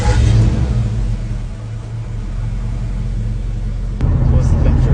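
A 1993 Ford Bronco truck engine cranks and catches, then settles into a steady low rumbling idle with a louder surge near the end, with speech over it.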